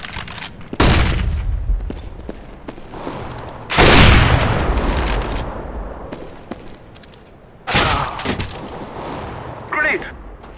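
Flashbang grenades and bursts of gunfire in a competitive shooter match, with three loud, sharp blasts spaced a few seconds apart, each trailing into a crackling decay, plus a faint later pop.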